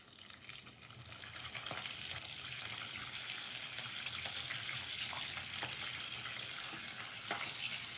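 Curry leaves and a pinch of asafoetida frying in hot oil for raw mango pulihora, a steady close sizzle with crackling bursts and a sharp pop near the start, with no talk.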